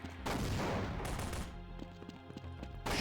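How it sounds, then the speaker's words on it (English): Machine gun fire in a video game, loud bursts of rapid shots that break off and resume, with softer mechanical clicks and a sustained drone between volleys. "Okay, machine gun."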